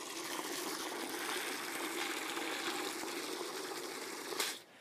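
Water draining fast out of the bottom of a bucket in a DIY chicken-feed fodder system, a dense continuous rushing flow that cuts off abruptly near the end.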